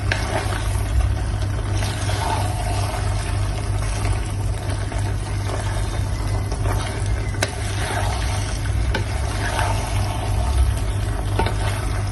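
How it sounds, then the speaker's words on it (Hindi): Cooked chicken is stirred into creamy alfredo pasta in a hot pan, a steady loud sizzle and bubbling hiss running continuously with faint scraping of the spoon and no voices. "अब हम इसमें वो चिकन डाल देंगे जो हमने रेडी किया था।"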